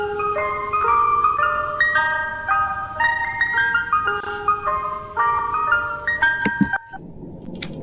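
Tinny electronic jingle from an ice cream truck plays its melody outdoors at moderate volume, the tune carrying steadily before cutting off abruptly near the end.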